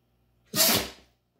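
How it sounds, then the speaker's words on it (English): A big livestock guardian dog lets out a single sharp, forceful sneeze, close up and loud against near silence. "Big dog sneezes."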